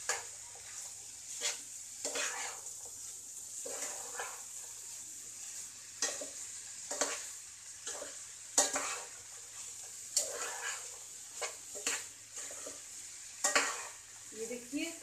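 Bottle gourd and chana dal curry stirred in a pan, a spoon scraping in repeated strokes every second or so over a steady soft sizzle, close and moderately quiet with no talking.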